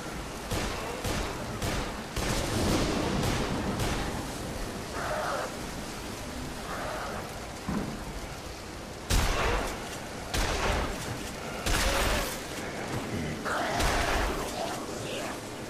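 Gunfire in the video game Dead Island Riptide, a string of sharp shots and bursts scattered among noisy game action, with a few faint vocal sounds.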